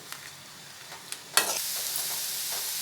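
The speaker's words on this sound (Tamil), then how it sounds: "இந்த எண்ணெயிலே 1 நிமிஷத்துக்கு தேங்காய் துருவல் அப்படியே வதக்கி விட்டுடலாம்" Grated coconut frying in oil in a pan: a soft continuous sizzle with a few light stirring taps and one sharper clatter partway through.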